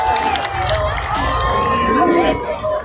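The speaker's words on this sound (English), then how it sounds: "let's have a big round of applause for Susie!" Outdoor crowd cheering and whooping at a country show's sheep show, a loud, continuous wash of voices with shouts rising over it, while a presenter's voice carries through.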